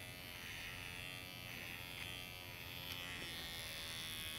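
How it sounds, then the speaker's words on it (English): Electric dog clippers fitted with a 10 blade buzz in a steady, close, even drone while being drawn over an English Springer Spaniel's muzzle during show-style grooming. "drag my clipper and my blade over his muzzle"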